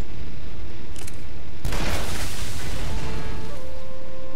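A single sharp, loud gunshot blast in the video game Shadow Warrior, followed by a lingering rumbling decay and faint electronic tones as it fades.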